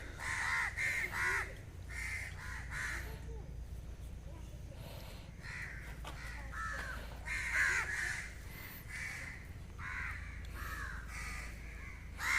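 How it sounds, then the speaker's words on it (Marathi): Repeated harsh cawing of crows in short bursts, some close and loud, others farther off, over a steady outdoor background hum in a village near Pune. "इथं पक्ष्यांचा आवाज खूप आहे"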